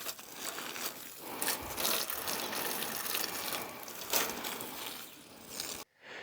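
A strong stream of water sprays steadily onto a Parkside Performance PALS 50 B1 360° LED work light rated IP54, giving a loud, continuous hiss and splatter that stops abruptly near the end.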